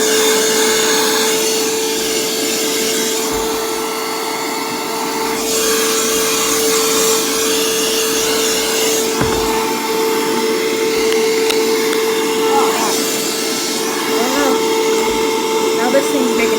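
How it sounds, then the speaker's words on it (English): A Hoover Rewind UH71013 vacuum cleaner runs continuously with a steady whining drone, its pitch shifting slightly as it sucks up loose paper and dust, loud and close throughout. "I just wanted to suck up any loose paper and dust"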